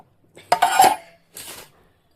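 A metal spoon and other kitchen utensils bought at a fair, handled in two short bursts of clinking and rattling metal, close and fairly loud against silence.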